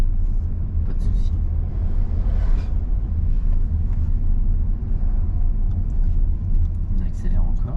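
A car accelerating on the road during a driving lesson, a loud steady engine rumble with wind noise throughout while an instructor talks over it.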